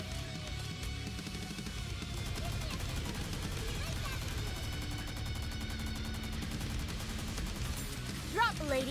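Rapid gunfire from the mobile shooter game Nikke rattles on steadily under background music, a continuous barrage with a brief sharper burst near the end.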